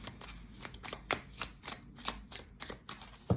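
Someone shuffles a small deck of tarot cards, giving quick, crisp riffling and slapping bursts in an uneven rhythm, fairly close and quiet, with no talking.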